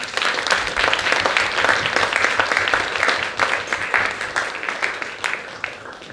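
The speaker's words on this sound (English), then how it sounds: "a big applause for the actors and for the directors" An audience applauds actors and directors after a theatre performance, loud sustained clapping that slowly thins and fades toward the end, with no talk.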